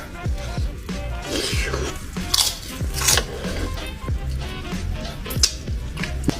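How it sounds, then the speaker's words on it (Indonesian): Someone eats Indonesian fried porridge topped with peanuts and crackers, with loud, close crunching and chewing bites repeating throughout over a steady background hiss. "Kriuk-kriuknya bisa kalian dapatkan di kacang dan juga kerupuknya."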